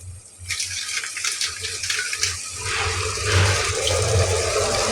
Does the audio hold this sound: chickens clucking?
no